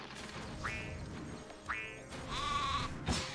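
Sheep in the video game Spyro: Enter the Dragonfly give three short, wavering, synthesized bleats, spaced about a second apart, with the last one longer and drawn out, over a steady background of game music and ambience.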